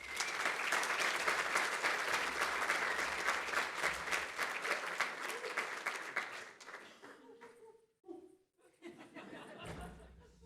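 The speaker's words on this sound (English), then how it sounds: "One more big round of applause for Doug." Room full of people at a landcare summit opening session applauds a speaker in a long, steady round of clapping with some laughter, tapering off around seven seconds before someone speaks.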